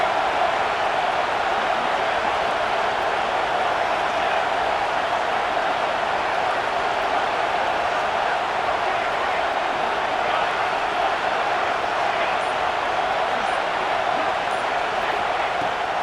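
A stadium crowd roars in the EA Sports College Football 26 video game during a South Carolina vs LSU matchup, a steady, dense wall of cheering noise held without a break.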